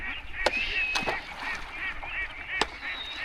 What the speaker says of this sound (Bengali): অনেকগুলো হাঁস কিন্তু এখানে প্রায় হাজার হাজার হাঁস